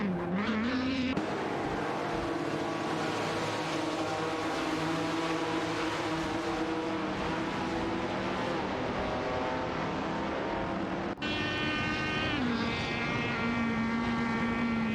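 Racing car engines in a video game drone steadily and loudly throughout, a continuous high whine that shifts pitch as cars pass, with a sharp change near the end.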